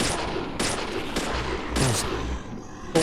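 Repeated gunshots from a video game firing in a shooter, with several sharp loud blasts spaced roughly every half second to second and a lower rumble between them.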